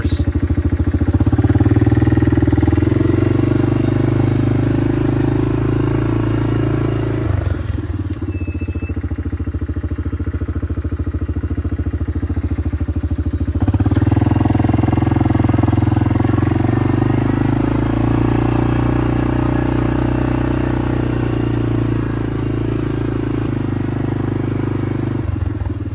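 A 1998-2001 Yamaha Grizzly 600 4x4 ATV runs in reverse with a steady, loud mid-pitched engine drone and some clatter, briefly dropping lower for a few seconds mid-way before resuming at full level.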